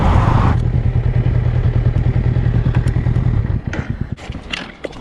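A motorcycle rides a scenic mountain pass road, its engine loud and close with a steady throbbing rumble that later eases off, followed by scattered clatters and thumps.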